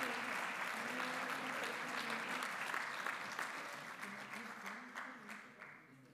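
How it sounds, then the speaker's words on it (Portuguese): Steady crowd clapping for a colleague honoured for forty years at a professional oath ceremony in Viseu, full and even at first, then gradually tapering off as hands drop away. "Um aplauso, Rosa Neves"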